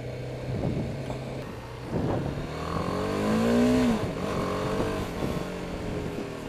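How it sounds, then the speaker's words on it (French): A BMW G310R motorcycle pulls away for its first ride, its single-cylinder engine revving up and shifting through rising and falling tones at moderate distance, steady and unbroken with no voices. "premier tour de roue de ce G310R"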